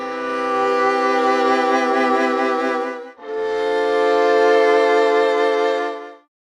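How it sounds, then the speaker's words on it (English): Sampled string section playing vibrato close articulation: two long, sustained bowed chords with lush, wavering vibrato, loud and full, separated by a brief gap before fading out. "by default, it's set to vibrato close, which sounds like this."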